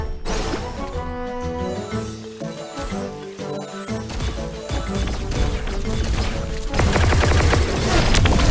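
Rapid bursts of gunfire from a favourite weapon in the Thetan Arena game crackle over loud, layered background music. The firing grows denser and louder toward the end.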